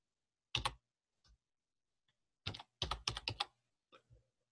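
Bursts of typing on a computer keyboard, a single stroke followed by quick clusters of clicking keys, close and fairly quiet with silent gaps between, no talking.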